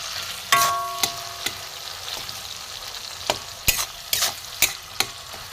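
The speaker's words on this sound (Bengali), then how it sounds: "টমেটোগুলো একটু ভাজা ভাজা হোক।" Salted tomatoes fry in a pan under a soft, steady sizzle, while a spatula scrapes and taps the pan in sharp, irregular strokes.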